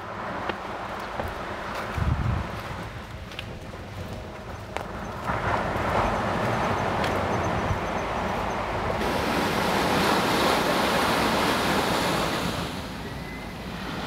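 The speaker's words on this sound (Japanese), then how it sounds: "波の音が近づいてくる感じがすごいですね。" Ocean waves on the shore at Hayama on a rainy day, a near, swelling wash of surf that builds and recedes in long surges, mixed with wind buffeting the microphone and a few scattered thumps.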